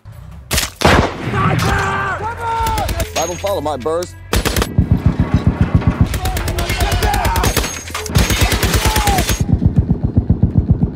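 Battle gunfire from the war film Fury, loud rapid bursts of automatic fire and single shots crackling in close succession, mixed with voices and tonal effects between the volleys.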